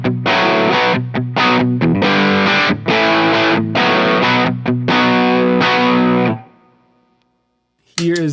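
Electric guitar through a Nobels ODR-1 overdrive pedal, strummed chords ringing loud with gritty distortion for about six seconds, then decaying to near silence before a brief new strum at the end.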